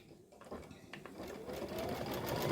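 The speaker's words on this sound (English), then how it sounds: "so now we're going to do the placement stitch for this one" A home embroidery sewing machine runs a placement stitch on fabric, a close, rapid mechanical buzz that picks up speed and builds in loudness to a steady whir.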